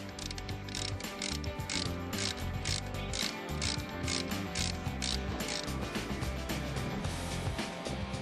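A wheel hub on a Mercedes-Benz Actros truck is worked loose with a ratcheting tool, giving a fast, steady clicking pawl rhythm with metallic mechanical clatter up close, no speech.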